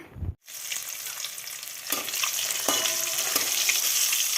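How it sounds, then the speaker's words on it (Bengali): Boiled eggs fry in hot oil with turmeric, a dense steady sizzle close up that starts after a short clatter and builds slightly, with a few stirring knocks against the pan. "এখন এই যে ডিমগুলো একটু ভেজে নিচ্ছি, আর তেলের মধ্যেই হলুদ দিয়ে দিয়েছি"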